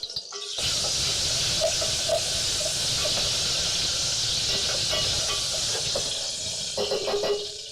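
Pepper frying in hot oil while making tamarind pepper sauce gives off a steady, close sizzling hiss that runs almost the whole time, with small pops and crackles scattered through it.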